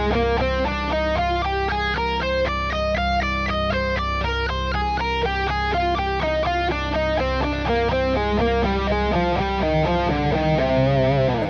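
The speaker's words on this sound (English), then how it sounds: "I start with the scale and then go down with the thirds." A scale played on a sustained, slightly distorted melodic instrument, rising step by step and then descending in thirds, as a continuous run of even, clearly separated notes with no talking.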